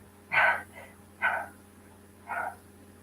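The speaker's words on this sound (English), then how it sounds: "I'm going to sneeze here for a minute." A person sneezes in three short, sharp bursts spaced about a second apart, close and fairly loud against a quiet indoor hum.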